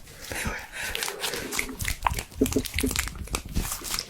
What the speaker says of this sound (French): C'est du slime.